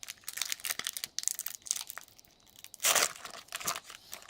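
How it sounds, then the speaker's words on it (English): A 1993 Skybox X-Men trading card pack wrapper is torn open by hand, producing close crinkling and ripping foil that peaks in a louder tearing burst midway. No one speaks. "let me show you how to open them right way so you don't have to cut them"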